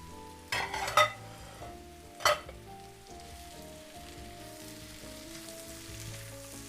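Potatoes with mushrooms sizzle steadily in a frying pan, with two bursts of scraping stirring near the start and a low crackling background throughout.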